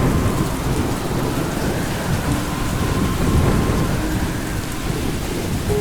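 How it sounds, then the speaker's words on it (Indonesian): Heavy rain pours steadily with rumbling thunder in an animated scene, a dense, loud hiss of rainfall over deep rolling booms, no talking. "Akan turun hujan deras."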